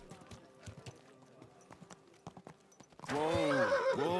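Horse in Kingdom Come: Deliverance 2: faint clip-clop of hooves under scattered sounds, then a loud, close neigh and whinny fills the final second.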